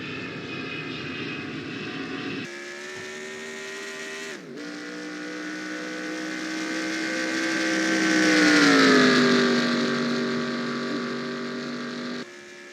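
A NASCAR stock car in NR2003 revs hard through a burnout at Pensacola, its engine note holding steady then climbing to a loud peak before easing off, with no voices over it.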